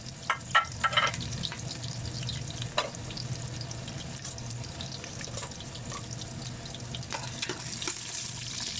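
Onions browning in hot oil, a soft steady sizzle close by, broken by a few stirring scrapes and clinks early on and again near the end.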